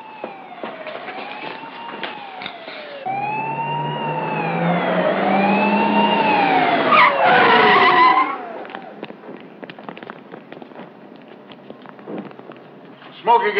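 A police siren in a trucking TV drama wails up and down in swooping sweeps for several seconds over road noise and a skidding, engine-like rumble, then fades back into a noisy background.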